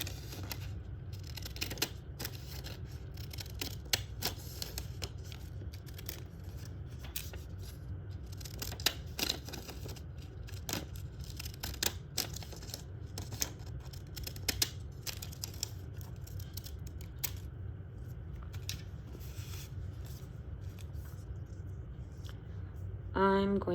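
Scissors snip through paper during a children's art lesson making a Mexican rug design, with quiet, irregular clipping ticks over a faint background hum.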